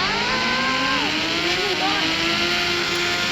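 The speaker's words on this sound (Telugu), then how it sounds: "ఇప్పుడు బైక్ ఎంత స్పీడ్ వెళ్తుందో చూద్దాం." Motorcycle in the video game Indian Bike Driving 3D, a loud continuous engine drone that rises in pitch, dips and climbs again as the bike speeds along.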